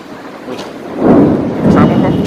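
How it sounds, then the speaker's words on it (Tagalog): Thunder rumbles low and heavy during a combined sand and rain storm in the UAE, two rolling swells over a steady wash of wind and rain. "Kumukulog na po."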